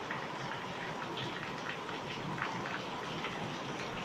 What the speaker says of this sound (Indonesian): Aduh guys, kita pulang dulu guys, hujan guys.